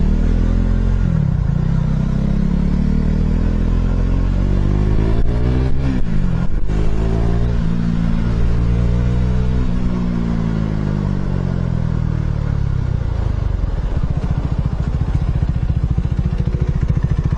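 A loud motorcycle, a Bobber 400, revs and drones nearby while filtering through traffic, pitch rising and falling as it accelerates, with a brief clatter midway.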